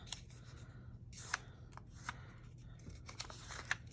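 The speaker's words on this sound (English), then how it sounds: "I just cut it in half." Scissors cut paper for a vintage postcard craft, a few soft, close snips and crisp paper rustles scattered over a quiet background.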